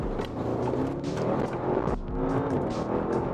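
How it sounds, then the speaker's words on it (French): Audi RS6 with its biturbo V8 accelerating hard, a loud, steady engine roar building throughout with a brief shift-like dip midway. "On va se refaire une accélération."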